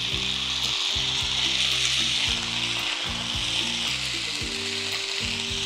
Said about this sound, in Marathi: हे बघा छान अशी ढोबळी परतून झालेली आहे